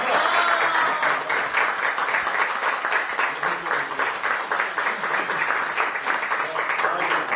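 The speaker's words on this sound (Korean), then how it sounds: "큰 박수 부탁드립니다." A crowd applauding steadily at a Democratic Party of Korea ceremony appointing youth spokespersons, dense continuous clapping that stays loud and even throughout.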